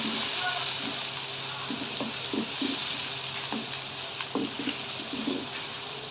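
Onions fry in a pan with cumin and dried coriander, a steady sizzle under occasional stirring clatter, while bird coos sound faintly in the background.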